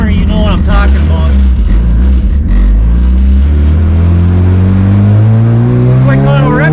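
A car with a B16 engine revs hard and accelerates on a test drive, the loud, close engine note climbing steadily in pitch through the gears and filling the whole clip.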